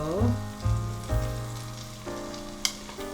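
Shrimp marinated in soy sauce, black pepper and sesame oil fry in a hot pan. Loud sizzling bursts come as pieces are laid down, then settle into a steady crackle, with a single sharp tap near the end and no voices.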